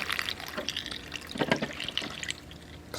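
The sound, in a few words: pouring washer fluid into a small funnel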